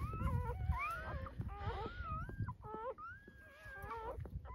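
A litter of eight newborn puppies born outdoors in brambles on an off-grid homestead, whimpering and squealing close by in thin, rising and falling cries that overlap almost constantly, with soft rustling underneath.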